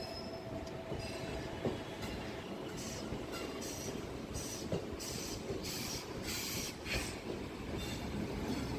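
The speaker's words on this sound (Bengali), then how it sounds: "ট্রেন চলতে শুরু করলো" A train rumbles steadily along the rails, with a continuous low roar, rhythmic wheel noise and occasional high metallic squeals.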